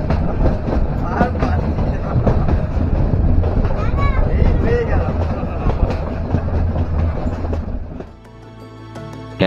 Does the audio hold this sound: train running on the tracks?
yes